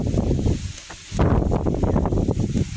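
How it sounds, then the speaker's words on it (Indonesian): Strong wind blows outdoors near a bird's nest, buffeting the microphone with loud low rumbling gusts that briefly ease and then surge again. "kencang banget anginnya"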